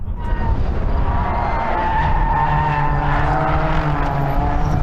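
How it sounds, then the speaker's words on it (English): Racing cars in a Swift Cup Europe 2024 race at Balaton Park Circuit, tyres squealing through the corners over a loud, continuous engine roar, close and sustained throughout. "Listen how the tyres squeal through the corners."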